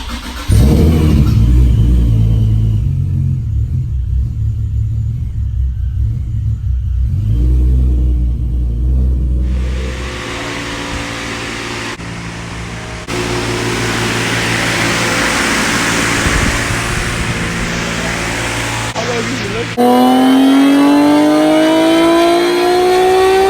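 A Nissan 370Z fitted with a Top Gunz air suspension kit starts up and settles into a loud, close idle, then revs repeatedly with rising engine pitch, with no talking over it.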